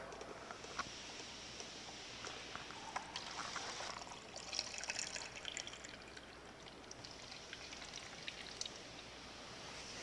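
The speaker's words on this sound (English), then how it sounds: "We want to add an equal part of water." Water pours steadily through a funnel into a coolant jug to mix with antifreeze, a continuous close splashing trickle that fluctuates slightly in strength for the whole stretch.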